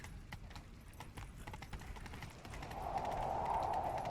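Video game horses from The Witcher 3 clip-clop in a fast, steady gallop, with a rougher rumbling rush building louder over the last second or so.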